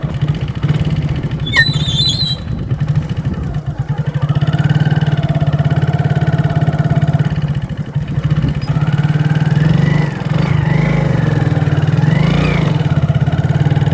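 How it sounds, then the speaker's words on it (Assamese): A motorbike rides along a winding village road, its engine a close, steady drone that rises and falls in pitch as the rider throttles through the curves. "লুংলুঙীয়া বাটটোৰে এনেকৈ বাইকখন চলাই পাৰ হৈ আহিলোঁ"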